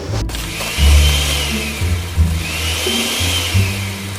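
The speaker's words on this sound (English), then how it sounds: "You're gonna blend it up in your blender." Kitchen blender grinding a cup of oats into oat flour, a loud whirring motor with surging pulses and deep rumbling bursts as the oats churn, running steadily with no voices.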